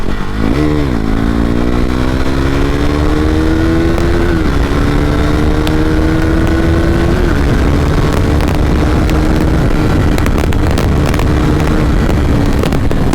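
A KTM RC 390 BS4 sports bike rides at high speed, its engine droning loud and steady as it climbs through gears, with heavy wind rush buffeting the microphone throughout.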